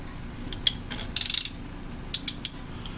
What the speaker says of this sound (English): with a 17mm socket, go ahead and remove the fill plug from over there, and then the drain plug from right here